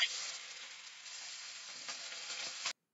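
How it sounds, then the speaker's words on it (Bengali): Fish coated in salt and turmeric fries in hot mustard oil in a kadai, giving a loud, steady, close sizzle that fills the whole clip before cutting off abruptly near the end. "এবার আমরা এই তেলে নুন হলুদ মাখিয়ে রাখা মাছগুলো ভালোভাবে ভেজে নেব।"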